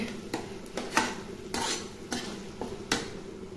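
Taro leaves cooking in a wok, with soft repeated scraping and clinking strokes of a utensil against the pan over a quiet, steady sizzle, fairly faint and close, with no talking.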